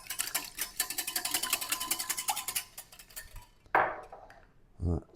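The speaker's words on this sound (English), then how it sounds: "Give it a whisk." A whisk beats milk into batter in a bowl, a quick rapid rhythmic clatter of metal against the bowl for about three seconds, followed by a few scattered knocks and faint movement, quiet and close.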